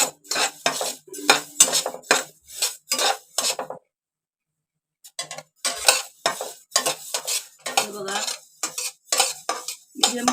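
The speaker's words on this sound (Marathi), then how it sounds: "गॅसवर मी दहा दाणे भाजून घेतले बघा" Coriander seeds roast in a pan over a gas flame, with repeated scraping and rattling strokes of a utensil against the pan, pausing for about a second before resuming at a brisk rhythm.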